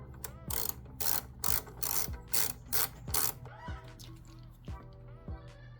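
Mirror bolts are loosened on a Yamaha R7 motorcycle with a ratchet, a close run of rhythmic rasping clicks, about eight even strokes followed by slower, softer turns.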